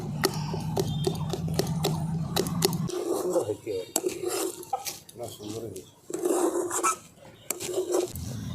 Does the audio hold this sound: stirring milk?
yes